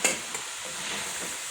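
Minced beef stew mixture with herbal salt is being stirred in a pot, giving a soft, steady scraping and sizzling texture with a brief sharper clink at the start, close and alone.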